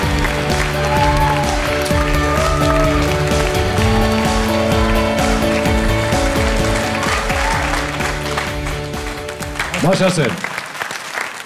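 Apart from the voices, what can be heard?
applause from the audience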